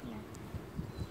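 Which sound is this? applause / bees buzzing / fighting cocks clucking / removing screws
bees buzzing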